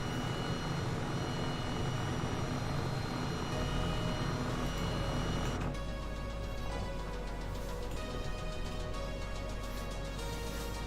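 Jet airliner engines roar at full reverse thrust after landing in Microsoft Flight Simulator 2020, a loud continuous broadband rumble that holds steady throughout with no voices.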